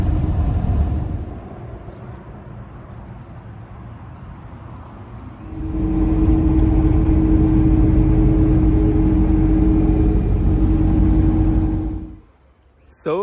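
A convoy of five escort vehicles passes a slow-moving camper on a road in Spain, giving a sustained loud engine and road rumble that swells midway and holds before dropping away sharply.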